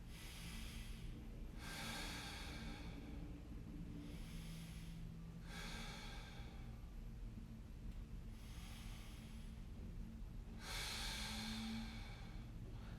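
Slow, deliberate breaths during a mobility stretch for the hip and low back, five soft breathy bursts spaced a few seconds apart, close and quiet.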